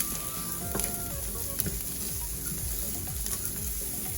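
Vegetables and herbs (rosemary and sage) for a low-carb vegan stuffing sizzle in a pan, a continuous close crackle with faint utensil clinks and no talking.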